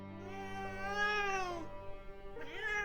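A drawn-out cat-like meow from something imitating a cat on a front porch at night, a wavering high tonal cry that rises and falls, breaks off, then returns with a second shorter yowl, faint and alone.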